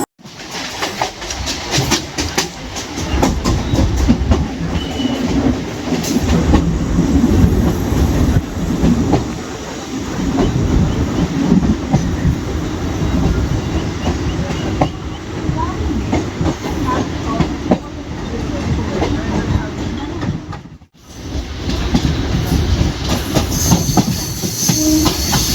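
A Chennai suburban EMU train nears Vyasarpadi Jeeva station with a loud, continuous rumble and rhythmic wheel clatter on the rails, briefly dipping near the end before roaring on.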